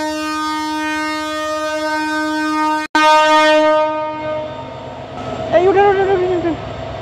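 A passenger train on the Dhaka to Cox's Bazar line departs a Bangladeshi station at night, sounding a long, loud, steady horn that cuts off abruptly, followed by rumbling and a voice speaking.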